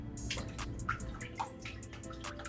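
Chaeto macroalgae is shaken in aquarium water during a nano reef tank water change, giving soft, close splashing and dripping in quick irregular bursts.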